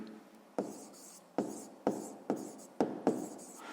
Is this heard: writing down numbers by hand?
yes